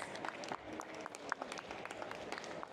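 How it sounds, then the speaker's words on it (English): Audience applause for a panel at a London games festival event: a dense, continuous patter of many hands, faint and distant-sounding throughout, with no clear talk over it. "Please, one more round of applause, please, for our panelists."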